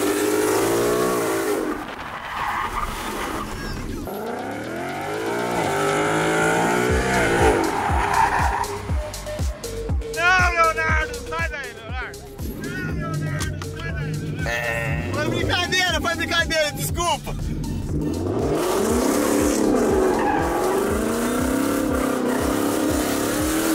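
Lamborghini drifting with long, loud tire squeals and engine noise, bursts of screeching rubber recurring over about twenty seconds, with excited voices talking and shouting throughout.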